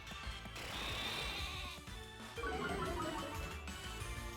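A sheep Pokémon bleats repeatedly during a battle in Pokémon Shield, its wavering cries loud and close over busy game music and effects.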